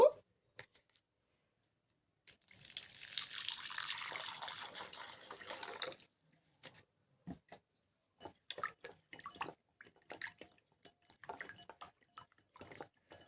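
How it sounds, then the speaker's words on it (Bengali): Three amla fruits are washed in water, with a few seconds of soft splashing and swishing followed by scattered quiet drips and light handling clicks at close range. "এই তিনটে আমলকি ভালো করে জলে এবার ধুয়ে নেব"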